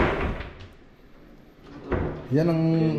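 A drawer slides and bumps shut at a construction project in Tarlac, one short scraping thud over faint room noise, followed closely by a voice speaking nearby.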